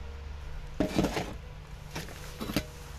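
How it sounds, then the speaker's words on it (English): Self-raising flour being mixed in a metal mess tin, heard as a few close metallic scrapes and light clinks in short bursts over a quiet background. "Now I'm going to mix it in a mess tin."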